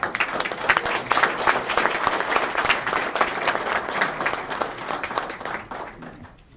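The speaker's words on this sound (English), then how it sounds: "Got a round of applause" Crowd applause fills a town council meeting, steady clapping from many hands that holds for several seconds, then thins and fades out at the end.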